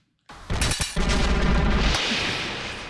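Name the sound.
explosions in the video game Cupid Parasite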